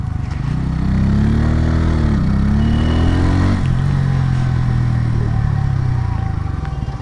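Bajaj Pulsar N150 motorcycle engine revved hard to high RPM, loud and close, the pitch climbing then dropping before settling into a steady high-revving drone with mechanical clatter, no talking.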